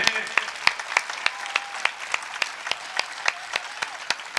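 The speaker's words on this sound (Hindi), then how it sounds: "वो तालियां कमजोर हैं" A sparse audience at an all-India poetry gathering in Shujalpur claps thinly, roughly a dozen distinct sharp claps in an uneven rhythm over a quiet room.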